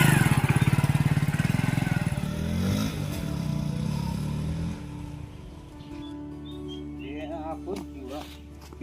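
A motorcycle engine putters in rapid pulses, then revs and drones on steadily, fairly close, while people talk over it and birds chirp in the background.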